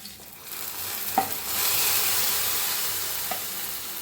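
Roasted ingredients are tipped into simmering khapli wheat kheer in a pot, with a steady close bubbling and sizzling hiss, two brief knocks against the pan, and a soft stirring swish.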